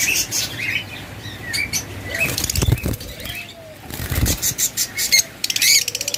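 A pair of caged lovebirds flap their wings in short bursts, with brief chirps and squawks in between; the flutters come close and fairly loud, with the heaviest flurries in the middle and near the end.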